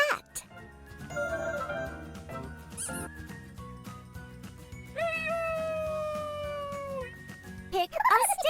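Cartoon cat meowing in a children's alphabet cartoon, a drawn-out, sliding meow standing out over a bed of bright background music, with a brief voice at the very end.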